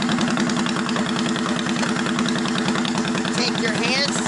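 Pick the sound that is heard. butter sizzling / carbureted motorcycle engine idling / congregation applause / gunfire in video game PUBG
carbureted motorcycle engine idling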